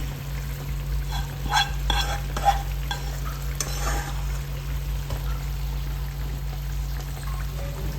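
Leftover squid stuffing being stirred into a frying gravy, a steady wet sizzle with scraping spoon strokes and a few clinks early on, close by over a constant low hum, no voices.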